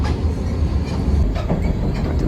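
A train runs on rails near Falaknuma in Hyderabad, giving a steady, fairly loud rumble with wheel clatter that continues throughout, with no talking.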